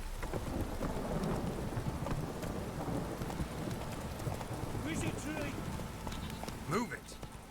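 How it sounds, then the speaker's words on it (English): Heavy video-game downpour with rolling thunder and a constant wash of rain on surfaces, with hoofbeats underneath and someone speaking over it. "This downpour's a bastard"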